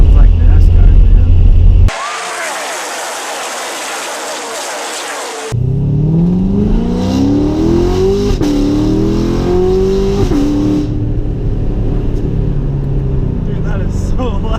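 Deafening roar of a straight-piped Chevrolet Corvette exhaust heard from inside the car, revving hard then accelerating with climbing pitch through gears, while occupants talk over it.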